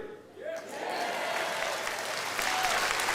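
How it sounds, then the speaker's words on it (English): A rally audience breaks into steady applause with some cheering, a sustained crowd clapping that swells after a brief voice and carries on throughout. "Now, that was a quieter cheer."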